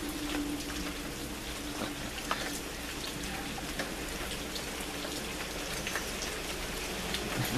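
Steady rain pours down outdoors, a dense continuous patter of drops striking surfaces, close and even throughout with no birds or voices.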